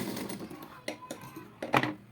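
A sewing machine stitches a fabric strip onto a simple blouse piece in short, quiet whirring bursts with small mechanical clicks between them.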